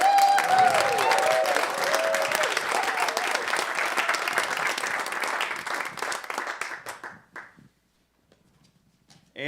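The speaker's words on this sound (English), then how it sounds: "Let's make another round of applause for everybody I mentioned." Audience applause at a folk festival memorial tribute, loud dense clapping from a crowd that holds steady for several seconds and then fades out to near silence.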